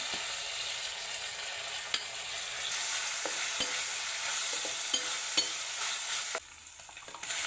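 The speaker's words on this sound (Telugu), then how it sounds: "ఇప్పుడు కరివేపాకు వేసుకుంటున్నాం." Curry leaves sizzle in frying onion paste for a tribal-style mutton curry: a steady, bright crackle close by, punctuated by occasional clicks of stirring, which drops off abruptly near the end.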